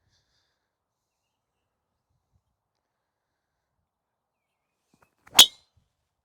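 A golf driver strikes a ball on a driving range, a single sharp, loud clang of impact breaking an otherwise silent stretch.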